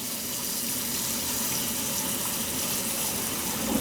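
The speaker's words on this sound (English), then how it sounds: "It was coming from the faucet, Stanley." Water runs steadily from a loose, leaking faucet into a sink, a continuous close hiss and gush that holds at one level throughout with no voices.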